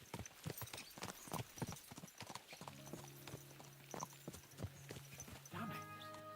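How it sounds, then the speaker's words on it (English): Horse hooves clip-clop in a rapid galloping rhythm in the medieval game Kingdom Come: Deliverance 2, close and steady under a droning score, with a horse whinnying near the end. "Let's really spur these horses on, eh?"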